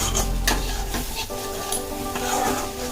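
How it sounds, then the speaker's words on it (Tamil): Broccoli and egg are sautéed in a pan, giving a steady sizzle throughout with repeated scraping and stirring strokes close to the microphone. "ஸோ அந்த அளவுக்கு நல்லா வதக்கணும்."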